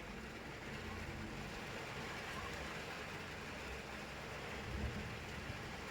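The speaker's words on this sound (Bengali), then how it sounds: "প্রচন্ড বৃষ্টি বাইরে" Heavy rain pours outside, a dense, even hiss of falling water that stays constant and fairly soft, with a faint low rumble underneath and no talk.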